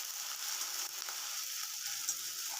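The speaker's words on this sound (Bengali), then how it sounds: "এবারে আমি পেঁয়াজ কুচিটা দিয়ে একটু ভেজে নেব" Chopped onions frying in hot oil for an egg curry, a steady bright sizzle that holds evenly from start to end at moderate volume, with no speech.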